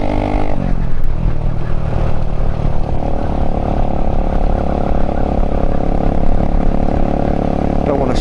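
A 125cc motorcycle is ridden along a road, its engine droning loud and steady under heavy wind rush for several seconds.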